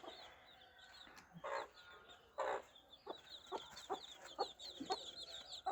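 Chicks about five or six days old on a small poultry farm with a raised bamboo-post shed, giving repeated soft clucks and high chirps at close range with short louder calls.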